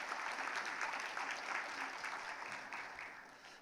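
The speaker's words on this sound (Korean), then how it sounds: "우리 박수로 한번 격려하겠습니다" A church congregation applauds during a worship service in a steady, sustained wash of many hands clapping together that fades slightly toward the end.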